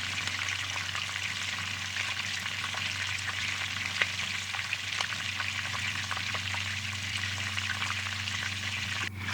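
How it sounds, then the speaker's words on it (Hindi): Shredded cabbage fries in a pan for Korean-style chow mein, a steady moderate sizzle with occasional stirring scrapes over a low background hum, no voices. "और इसके बाद मैंने बंद गोभी ऐड की है। अब इसको मैं अच्छे तरीके से जो है फ्राई कर लूँगी।"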